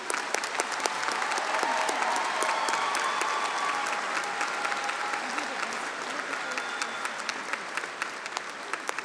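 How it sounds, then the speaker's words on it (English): Sustained applause for graduates fills a large hall at the LSU 2019 Summer Commencement, a steady, dense clapping from a big crowd that continues for the whole stretch. "A round of applause for these graduates"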